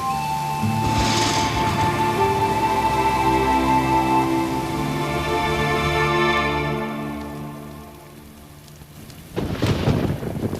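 Rain and rolling thunder in a night-time storm scene from a Hindi romantic film, with a steady wash of rainfall, long rumbling thunder and sustained tonal music throughout, ending in a louder burst near the close.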